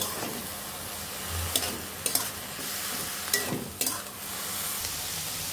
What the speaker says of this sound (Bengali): একে একে ধনিয়ার গুঁড়ো, খুব সামান্য পরিমাণের মতো লঙ্কার গুঁড়ো এবং হলুদ গুঁড়ো দিয়ে ভালোভাবে কষিয়ে নেব।